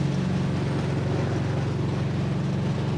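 A Dodge Dart with a 440 engine cruises down the road, its low, even engine drone and road rumble holding steady and moderately loud from inside the car.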